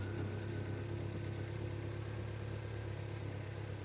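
A Mazda Miata MX engine idles just after starting, a faint, steady low rumble that stays even and unbroken, with no voices.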